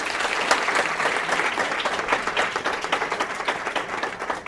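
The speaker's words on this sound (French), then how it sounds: "qu'on peut applaudir et remercier" A steady round of applause from a sizeable audience, dense clapping sustained at even volume throughout.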